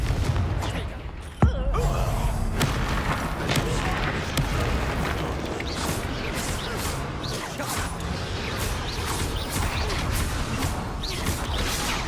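Confringo explosive spell blast in Hogwarts Legacy, a sharp boom near the start followed by a continuous roar of battle noise and crashing.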